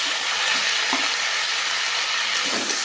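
Tomato goes into hot oil in a home vegetable curry with lentil vadi, and a dense, loud sizzle hisses continuously with occasional soft stirring knocks.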